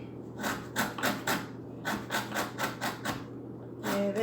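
A whole lemon is zested, the zester rasping against the rind in a series of about ten rhythmic scraping strokes, close and fairly loud, with a short pause in the middle.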